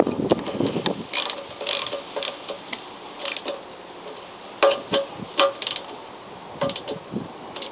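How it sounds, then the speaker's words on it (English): A ratchet tightening bolts on a Suzuki GS650GX Katana motorcycle during a rebuild, with a series of close, crisp clicking bursts in short irregular spurts and brief pauses between strokes. "just give them a bit of a tighten up with the ratchet."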